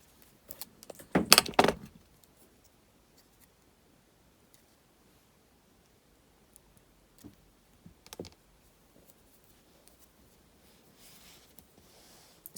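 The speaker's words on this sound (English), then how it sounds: "Now I'm going to cut that weaving wire." Metal jewelry wire clinks and snips as weaving wire is cut for wire wrap earrings, a loud cluster of jangly clicks early, then a few sparse, faint clicks and snips in an otherwise quiet room.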